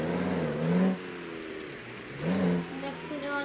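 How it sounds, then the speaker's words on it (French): A car engine in BeamNG.drive revs and accelerates twice, each rising whine swelling and dropping away under excited talk in French. "Une accélération."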